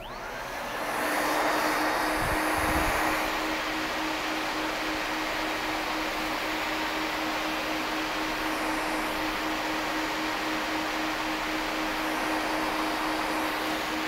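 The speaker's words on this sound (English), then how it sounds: "So I'm going to turn on the vacuum." A floor grinding machine runs at low speed with its vacuum attached, working a floor covered in glue residue and scrape marks; a steady, loud broadband whir with a constant hum fills the whole stretch, and a brief thump comes near the start.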